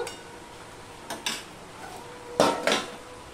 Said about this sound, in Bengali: আমি একটু ঢাকা দেবো, ঢাকা দিয়ে 2 মিনিট পর আবারও ভালো করে মিশিয়ে দেব